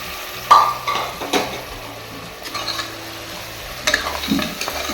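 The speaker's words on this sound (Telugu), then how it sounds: "క్లీన్ చేసి పెట్టుకున్న కాళ్ళ ముక్కలు కూడా ఇందులో వేసుకొని ఫ్రై చేసుకున్నాను" Cleaned mutton trotter pieces frying in oil with ginger and garlic: steady sizzle under several clattering stirs and a couple of louder scrapes against the pan, close and moderately loud.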